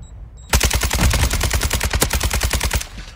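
Rapid automatic gunfire in Warzone DMZ, a loud close burst of evenly spaced shots rattling off for nearly three seconds without pause.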